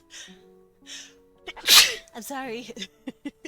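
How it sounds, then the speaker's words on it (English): A single loud, abrupt sneeze bursts out between stretches of close-up speech, and a person talks before and right after it. "Also, you just sneezed."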